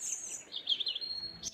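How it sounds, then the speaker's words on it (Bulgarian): Small birds chirp and tweet in quick, high repeated calls beside a paid pike-fishing lake at midday, fairly close and clear with no talking. "Чувате птичките."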